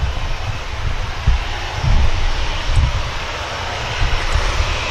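A heavy aircraft at Manchester Airport, its engine a loud low rumbling roar with broadband wind-like noise, steady and close with slight surges, no talk over it.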